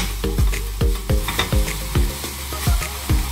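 Food frying in a pan, sizzling close by while a utensil stirs it in steady strokes about twice a second, each with a clack and a scrape.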